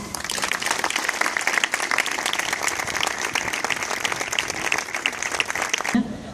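Audience at a public gathering against gender violence applauding, a dense, continuous round of clapping from many people that cuts off abruptly near the end.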